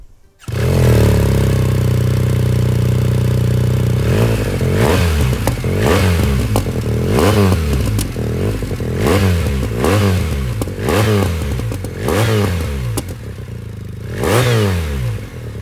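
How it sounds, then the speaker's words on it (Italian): A BMW R1300 GS motorcycle engine idles with a deep, throaty rumble through a full stainless exhaust system, revved repeatedly in sharp bursts that rise and fall, recorded up close. "Sentiamo la voce di questa fantastica BMW R1003 GS."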